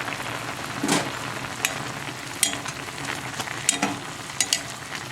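Egg and kimchi fry under a lid in a pan on high heat, giving a soft steady sizzle with scattered pops and crackles throughout, close and without voices.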